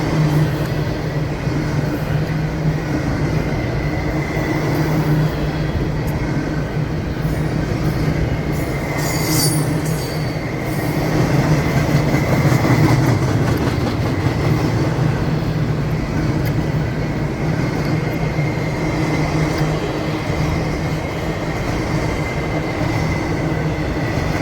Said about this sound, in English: This is a monster train.